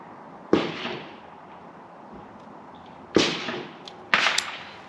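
Three sharp SIG P211 pistol shots ring out at a range, one early, then a pair spaced about a second apart later on, each loud crack trailing a brief echo, with no talk.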